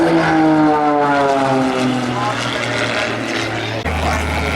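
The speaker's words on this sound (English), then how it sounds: "For the aircraft that we're watching here." A propeller aircraft flies past at an airshow in Stellenbosch, a loud droning engine with a falling pitch as it passes, while people talk beneath it.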